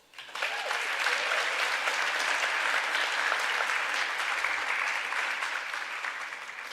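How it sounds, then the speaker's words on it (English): A crowd applauds, a dense, sustained clapping that starts abruptly and holds steady for several seconds before beginning to taper off. "Can we have one more round of applause?"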